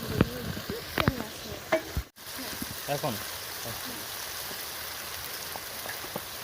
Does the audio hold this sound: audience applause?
no